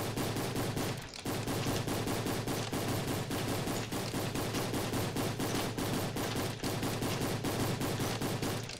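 Rapid, sustained weapon gunfire from the video game Island Royale, a dense stream of loud shots firing almost continuously with only one brief pause near the start.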